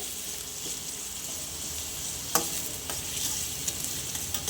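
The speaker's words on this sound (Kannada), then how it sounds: "ಈರುಳ್ಳಿ ಹಾಕೊಂಡು ಚೆನ್ನಾಗಿ ಬಾಡಿಸ್ಕೋಬೇಕು" Onions sauté in hot oil in a pan, giving a steady, even sizzle throughout, broken by a few light clicks from a stirring utensil.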